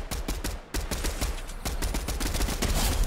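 Rifle fire in a Fortnite fight, a rapid string of sharp, close cracks in quick succession over about three seconds.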